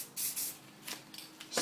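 Short hissing bursts of clear coat from a spray can onto a painted plank, several separate sprays of varying length with pauses between, close and fairly quiet.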